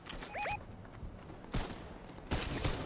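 Gunfire in Fortnite Reload comes as sharp bursts of shots at moments spread through the stretch, with a short chirping game tone early on, fairly quiet overall.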